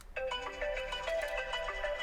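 Phone ringtone playing a repeating melodic chime pattern, fairly quiet and close, with no talking over it.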